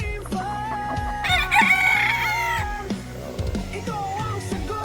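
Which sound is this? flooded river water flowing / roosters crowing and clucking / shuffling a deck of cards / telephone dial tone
roosters crowing and clucking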